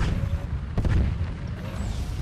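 Tank cannon fire in Tanki Online: one heavy booming shot near the middle of a rumbling game backdrop, with a low thud and brief tail.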